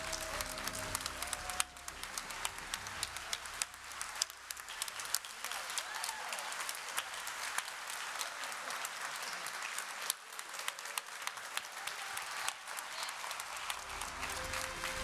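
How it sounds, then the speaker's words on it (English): At a tech conference hackathon showcase, a large crowd applauds the winning teams with sustained, dense clapping for the whole stretch, a few louder nearby claps and faint cheering mixed into the wash. "Can you give them a massive round of applause?"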